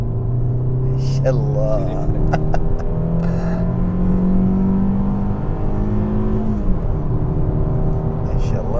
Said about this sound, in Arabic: خلونا ندعس له بس على السريع.